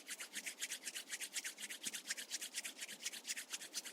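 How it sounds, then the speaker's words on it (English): Palms rubbed briskly together in a quiet yoga class, a steady rhythmic swishing of skin on skin, close and soft, repeating several times a second with no talking. "Start rubbing your palms together."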